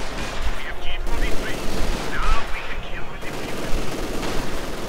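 Maxim machine gun fire in the WWII strategy game Company of Heroes 2, a steady dense rattle of bursts amid battle noise and distant explosions, with a caster's voice talking over it.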